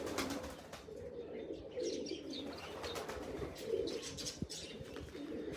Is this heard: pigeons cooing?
yes